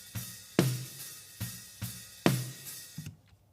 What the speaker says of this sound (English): without this, the overheads and the snare sound like this.